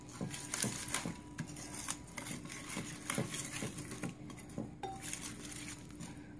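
Marinade for Punjabi-style roasted chicken leg quarters mixed in a bowl, close rhythmic spoon taps and scrapes against the bowl, fairly quiet, with no talking.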